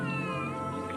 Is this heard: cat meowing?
yes